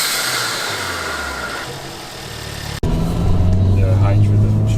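A Hyundai Kona N fitted with a Forge Motorsport blow-off valve runs nearby, its engine droning and revving with a sharp cut-off then a low idle hum, while people talk over it.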